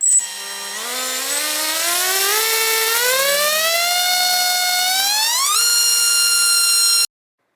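A Brother Hobby motor spins a DAL Cyclone V2 T5046 tri-blade propeller on a test bench, its loud whine climbing steadily in pitch for about seven seconds before cutting off abruptly.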